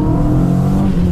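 A Pininfarina Fiat Coupé 16v turbo accelerates, its engine giving a loud, steady, close drone with rising harmonic tones, heard alone for about a second.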